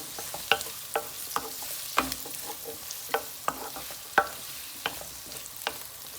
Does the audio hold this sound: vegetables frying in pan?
yes